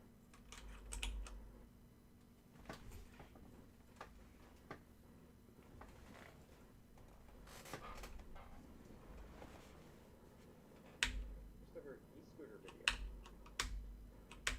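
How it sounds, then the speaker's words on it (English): Typing on a mechanical keyboard with its keycaps removed, scattered clicks and clacks in irregular bursts, fairly faint, with a voice talking at times. "I've taken the keycaps off because this is a nice mechanical keyboard."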